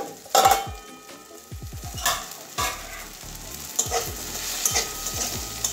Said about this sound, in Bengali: মাঝখানে এরকম ঢাকনা খুলে নাড়িয়ে দিতে হবে।